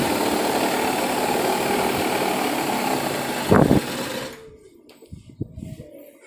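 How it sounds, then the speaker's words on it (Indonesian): A Sanex QJ 50 Matic two-stroke scooter engine idles slightly high with a loud, steady, buzzing drone. It then cuts off abruptly, leaving a few faint clicks and knocks. "motornya nyala teman-teman ya"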